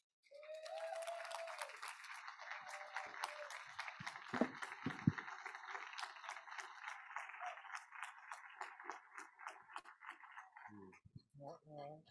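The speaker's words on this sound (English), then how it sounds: "please give a round of applause for Doc Juice" An audience at a tribal assembly awards banquet claps in a dense, steady burst that holds for about ten seconds, then fades as a voice begins near the end.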